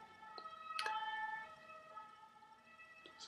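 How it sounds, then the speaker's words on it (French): A fire engine siren wails steadily outside at a moderate distance, its repeating tone rising and holding over about three seconds with no talking. "C'est les pompiers, je ne sais pas si vous l'entendez."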